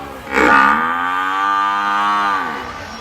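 A bull bellows at a bullock cart race, giving a single long, loud, low moo that swells and holds for about two seconds close by, with faint background noise and no speech.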